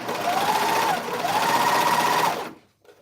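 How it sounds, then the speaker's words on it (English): A cover stitch sewing machine running in two steady, loud bursts of fast mechanical whirring with a short pause between, then cutting off abruptly into near silence. "I've been using my cover stitch machine for about a year"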